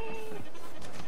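A tamed sheep in the video game Ark Survival Evolved lets out a short wavering bleat, loud and close, lasting about a second.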